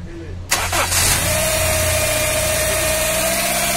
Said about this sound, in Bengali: তেলে স্টার্ট দেন